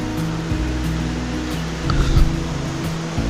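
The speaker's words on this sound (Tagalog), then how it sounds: "Ang laki ng ilog ngayon. Ang taas ng tubig." Steady broadband rushing of water, like a swollen river flowing nearby, with low rumbling and a slight surge partway through.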